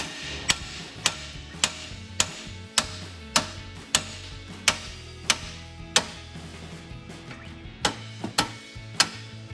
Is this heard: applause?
no